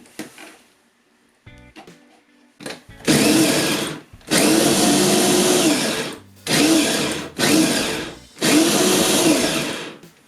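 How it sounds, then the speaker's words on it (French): An electric blender purees chunks of fresh pineapple into pulp for a coconut-pineapple yule log, running in four loud, whirring pulses of a second or two each, with short pauses between them. "Puis je le passe au mixeur."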